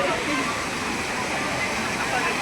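Children's waterfalls at the Wet n Joy water park in Lonavala pour in a steady, dense rush of splashing water, close and continuous, with voices mixed into the roar.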